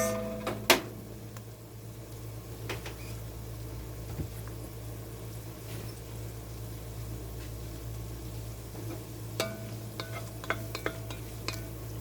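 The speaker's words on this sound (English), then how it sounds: "Now I'm just going to let this cook for just a few seconds just to bring out the aroma" Garlic cooks in a pot for a chicken pot pie soup, giving a quiet, even sizzle with a low steady hum underneath and a few sharp clicks and utensil taps scattered throughout.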